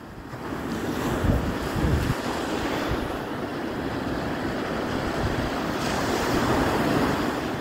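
Ocean surf rolls in steadily at a Florida state park beach during surf fishing, a continuous wash of breaking waves mixed with gusting wind noise, with no voices.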